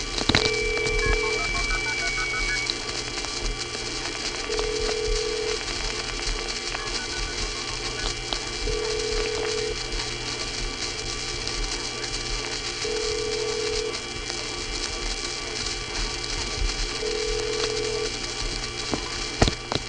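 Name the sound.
telephone trunk line oscillating squeal, like a squealing teapot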